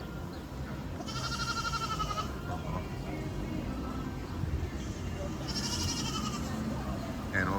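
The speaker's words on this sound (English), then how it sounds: "Just this one little goat all by himself, and he seems very distressed that he's alone." A lone little goat at a farm animal area bleats in distress in two drawn-out, wavering cries a few seconds apart, over a continuous murmur of background crowd noise.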